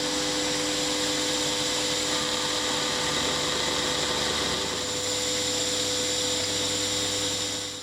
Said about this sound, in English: it's just a very simple operation with an end mill to cut that slot to the required depth